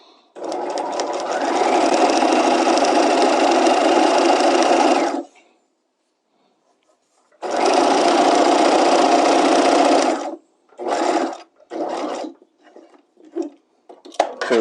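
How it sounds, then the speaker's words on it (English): Sewing machine running two long bursts as it stitches a straight seam for a slot seam with long stitches, then several short stop-start bursts, loud and close with brief silent pauses between runs. "And we'll go ahead and stitch this."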